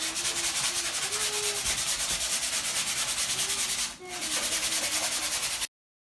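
Two glued wood pieces being sanded by hand, a steady continuous rubbing that runs almost unbroken for about five and a half seconds with one brief pause near the end, close and fairly loud, with no voices.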